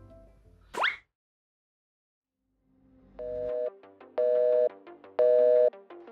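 A phone call placed from Japan: a short plop, a pause, then a repeating ringback tone in evenly spaced bursts, clear and alone with no voices.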